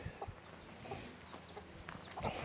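A young pullet chick peeps in a garden, giving faint, thin, high chirps scattered among soft clucking from nearby chickens against quiet outdoor background.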